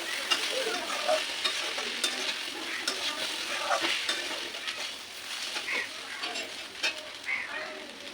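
Green beans and okra fry with a steady sizzle in a pan while a utensil stirs them, scraping and clinking continuously up close; faint talk sits in the background.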